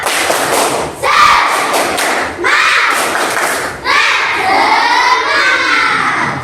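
Classroom of children doing a rhythmic spirited clapping chant, loud bursts of patterned claps and thumps mixed with excited shouting voices, repeating in several waves close by.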